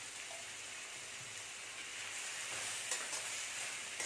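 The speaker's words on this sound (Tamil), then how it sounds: "இது நல்லா வதங்கட்டும். கொஞ்சமாக உப்பு போட்டு வதக்கிக்கலாம்." Chicken sautés in an iron kadai with salt for a chicken gravy, giving a soft, steady sizzle and crackle with occasional faint scraping of stirring, continuous and close.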